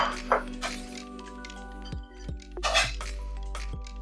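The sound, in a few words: fried garlic being transferred into a plate or bowl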